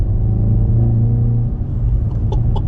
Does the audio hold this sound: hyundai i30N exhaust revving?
yes